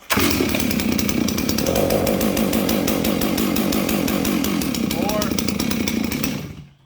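A ported Stihl MS 660 chainsaw fitted with a Max Flo muffler starts and runs close by at a loud, steady snarl for several seconds, then cuts out at the end.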